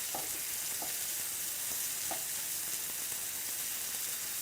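Onion charring in a hot pan for ratatouille, a constant dense sizzle and hiss at close range, with a few faint taps of a utensil.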